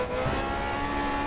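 Race car engine in the Grid Autosport video game, a constant loud, buzzing high-revving drone from the player's car, steady and close with no talk over it.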